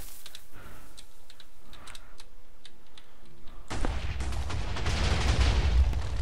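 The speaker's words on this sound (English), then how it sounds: "Okay, and here we go with TNT explosion." After a run of faint ticking clicks, a Minecraft-style TNT explosion bursts in and keeps roaring as a broad, loud, rumbling blast for the last few seconds.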